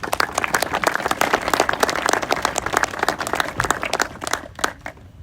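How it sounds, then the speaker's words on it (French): An audience applauds a French industry and energy minister, loud close clapping with distinct individual hand strikes in a busy rhythm that thins out and fades near the end. "que je vous prie de bien vouloir applaudir"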